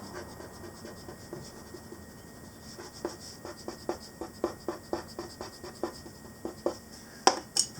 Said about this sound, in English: So I'm going to dilute it with my click eraser.